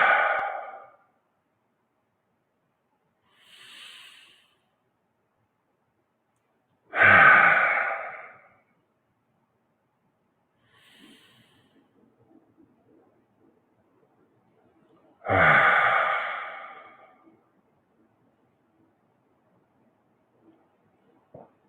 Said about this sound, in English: welcoming you to the present moment with 3 deeply satisfying breaths together